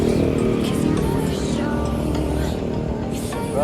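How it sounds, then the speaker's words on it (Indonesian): Busy street traffic of cars and motorcycles passing close by, a continuous loud rumble of engines with rising and fading passes and occasional higher revving, no break in the noise. "Banyak mobil dan motor"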